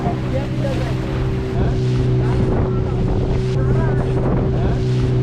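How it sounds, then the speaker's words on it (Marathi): A motorboat riding over rough, heavy sea waves on the Konkan coast near Suvarnadurg, Dapoli, Ratnagiri, a loud steady engine drone mixed with strong wind buffeting and crashing water, with voices partly audible. "अतिशय भयानक लाट आहेत. खालीवर होत आहे आणि जीव मुठीत धरून आम्ही चाललोय."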